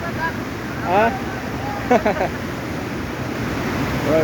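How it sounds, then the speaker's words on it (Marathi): Floodwater rushing beneath a bridge after nonstop rain in a major flood, a constant broad roar of flowing water with wind noise, while people talk briefly in the foreground. "पुलावर खाली पाणी चाललंय"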